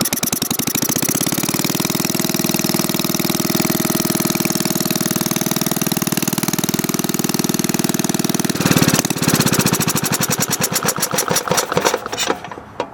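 A rebuilt Briggs Model Y engine runs slowly nearby with an even chugging rhythm. Toward the end the beats spread out and grow uneven.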